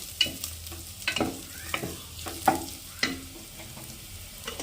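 A spoon stirs egg curry masala frying in a pan, giving quick scraping strokes at an irregular rhythm over a soft sizzle, close and fairly quiet.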